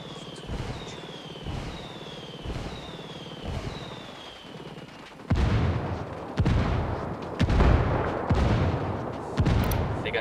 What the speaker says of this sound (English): Call Pakatari for some mortar fire.